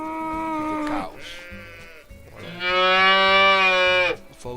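Cows moo in the Agrar Simulator 2013 farming game, two loud, drawn-out calls close by, the second longer and fuller, separated by a short pause.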